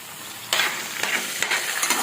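Diced tomato hitting a hot oiled pan for gongura chutney paste, a steady close sizzle broken by several sharp stirring scrapes at irregular intervals, with no talking.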